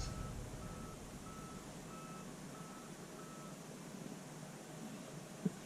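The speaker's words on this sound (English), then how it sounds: "Beeping." A truck's reversing alarm beeps steadily in a repeating pattern, faint and distant under a constant background hiss, with a sharp click near the end.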